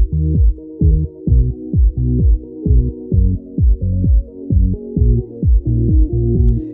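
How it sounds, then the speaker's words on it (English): Band-limited music with all high end removed, leaving a muffled, dull repeating pattern of low tones in a steady pulsing rhythm, loud and close. "if we band limited that sound or that music we listened to before, it might sound like this."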